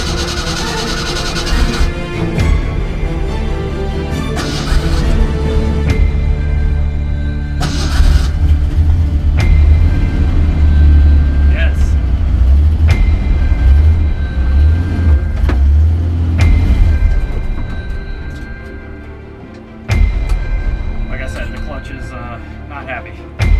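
A Ford Bronco II with no working brakes and a worn clutch drives along, its engine rumbling loudly and rising and falling with gear changes, with clunks and rattles and a short pause near the end.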